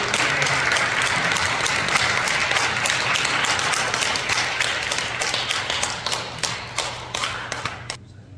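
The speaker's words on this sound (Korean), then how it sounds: "우선 우리 정종윤 목사님 박수로 한번 환영하겠습니다" A church congregation applauds during a Sunday service in Yangpyeong to welcome a retired pastor, steady dense clapping across the room that thins toward the end and stops abruptly.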